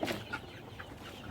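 Joper chickens in a simple backyard coop give a few short, soft clucks over a quiet background, with no one speaking.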